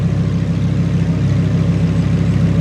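Lamborghini Huracan Performante idling in sport mode, a steady, deep, loud engine burble with an even pulsing rhythm, close and alone.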